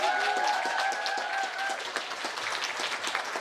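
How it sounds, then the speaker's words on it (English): Audience applause for an artist at a community art event, a dense, steady patter of many hands clapping throughout, with a few brief whistle-like tones early on. "I want to hear a big round of applause for Lisandro Suriel."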